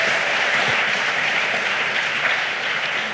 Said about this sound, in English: Can you please just give it a round of applause?